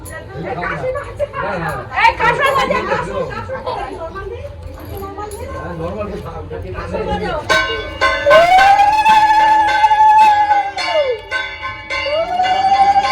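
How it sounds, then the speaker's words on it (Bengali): A kansar bell-metal gong is struck at a household Sheetala puja, ringing metallic clangs over busy crowd chatter, followed by a long wavering sustained tone with bright ringing overtones. "কাসর বাজাও"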